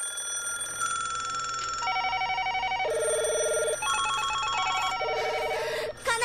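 Telephones ring insistently with complaint calls, several electronic bell tones overlapping and stepping between pitches in a dense, continuous clamor.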